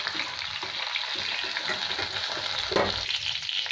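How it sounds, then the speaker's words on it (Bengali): Prawns seasoned with salt and turmeric frying in oil in a pan, a continuous close, dense sizzle with light crackles and a brief louder spatter near the end. "এই তেলের মধ্যে চিংড়ি মাছগুলো ভেজে নেব।"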